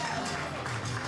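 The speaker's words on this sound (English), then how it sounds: "a round of applause for our little Ryan and his beautiful mother, Sharon" Guests at a wedding keep up a steady round of applause, a dense wash of clapping with some voices mixed in.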